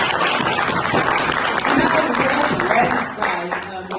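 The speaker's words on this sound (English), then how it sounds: "If we give here a round of applause." An audience at a women's empowerment and mentoring event breaks into a full round of clapping that stays loud and even, then begins to taper in the last second.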